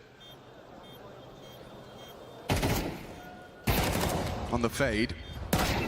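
Counter-Strike 2 gunfire in a professional match, sharp loud bursts of rifle shots that arrive in two or three clustered volleys after a quieter stretch, with a caster talking over the action.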